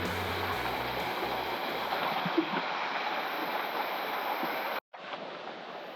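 Robin's Falls waterfall in the Northern Territory pours in a steady, broad rushing roar close by, with a brief cut near the end before the constant water noise resumes.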